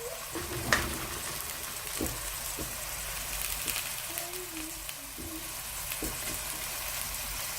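Cut vegan sausage pieces brown in a hot pan while a sauce bubbles nearby, a steady close sizzle and crackle with a few soft clicks and stirring taps, no voices.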